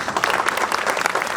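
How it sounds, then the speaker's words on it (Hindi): Theatre audience applauding a stage performance: dense, sustained clapping from a crowd, loud and close, with no pauses. "और जोरदार तालियां"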